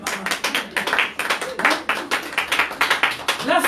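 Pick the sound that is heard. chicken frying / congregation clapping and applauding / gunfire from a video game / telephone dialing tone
congregation clapping and applauding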